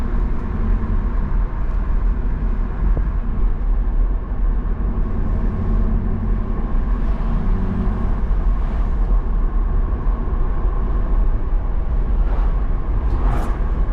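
A 1992 Mercedes-Benz 500SL driving on the road, a steady broadband rumble of engine, tires and cabin noise that holds throughout at even loudness, with no talking.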